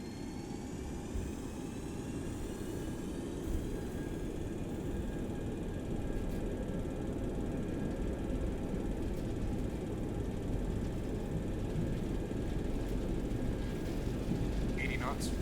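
Simulated Boeing 727 in X-Plane 11 holds a steady, broad jet-engine roar with faint whining tones through a takeoff roll on runway 28 left. The roar stays even and continuous, with no speech over it.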